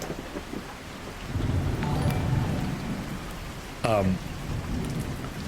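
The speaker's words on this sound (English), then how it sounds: "The rain is so loud I can't tell the truck is running." Video game rain pours steadily, with a low rumble of thunder swelling in the middle and a sharper crack near the end; no one speaks.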